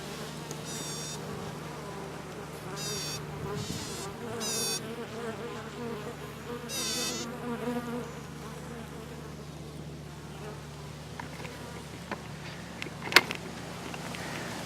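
Honeybees buzzing around an opened beehive, with intermittent close buzzing passes over a low steady hum, plus a brief sharp scrape near the end.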